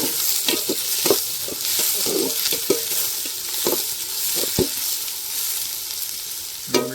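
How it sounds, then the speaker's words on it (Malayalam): Onion frying in hot coconut oil in a pan for chicken curry, a steady close hiss of sizzling with occasional stirring knocks and scrapes, no voices. "ചൂടായ വെളിച്ചെണ്ണയ്ക്ക് ഇതാ ഉള്ളിട്ട്"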